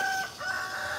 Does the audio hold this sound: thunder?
no